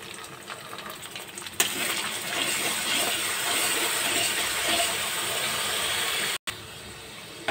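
Whisked sour yogurt hits a hot pan for Bengali ilish posto, hilsa in poppy-seed paste, setting off a sudden loud hiss that settles into a sustained, even sizzle with a brief break near the end.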